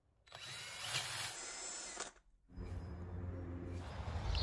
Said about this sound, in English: Drilling a cavity in the handle so that it can hold some extra fish hooks